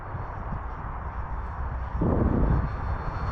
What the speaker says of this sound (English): That sound that motor makes is sick.